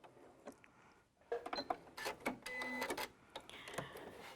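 A Janome computerized sewing machine runs in quick bursts, its needle clattering in rapid mechanical stitching runs separated by short pauses, close and fairly quiet.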